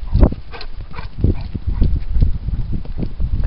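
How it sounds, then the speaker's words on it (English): A dog moving close by on a cold outdoor walk, with scuffling, panting and thumping bursts in an irregular rhythm, loud and near, no clear speech. "He's a crazy doggy."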